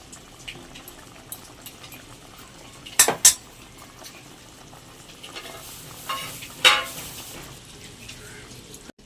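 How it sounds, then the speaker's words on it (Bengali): Slit green chillies dropped into a sizzling pan of niramish doi begun, a steady low frying hiss broken by two sharp clatters of utensil against pan, and a voice speaking faintly in the background. "কাঁচা লঙ্কা চিরাগুলো দিয়ে দেবো।"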